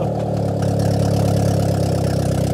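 Chevy demolition derby car with a loud engine running steadily up close, a deep, rough, continuous rumble with no pauses.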